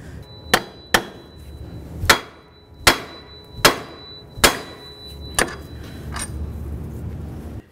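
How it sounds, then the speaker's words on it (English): A hammer strikes repeatedly to knock the outer tie rod end loose from the steering knuckle of a 2009-2020 Dodge Journey: about eight loud, sharp metallic blows at an uneven, deliberate pace, close by, with no talking. "continue on by breaking the outer tie rod end free from the knuckle"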